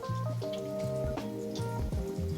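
Water runs and splashes while rinsing the inside of a cleaned cherry salmon (sakura masu) belly, a quick series of close, wet drips and spatters with a brief ringing tone.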